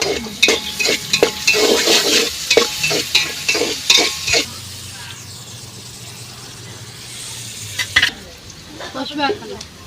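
Onions and green chillies fry with turmeric in a pan, with loud spoon scrapes and stirring over a steady sizzle for several seconds, then a quieter, continuous hiss of frying.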